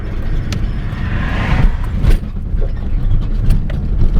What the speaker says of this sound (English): I just quickly park the car here rather than the usual